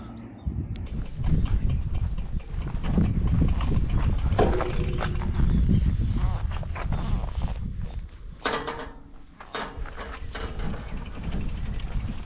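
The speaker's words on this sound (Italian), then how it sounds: "Che bel cavallo che sei." A horse clip-clops nearby on a countryside gravel route, its hoof thuds and movement mixed with mechanical clicking and rustling, no speech present.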